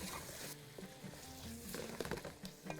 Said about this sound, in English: and a little bit of black pepper, then stir it a little bit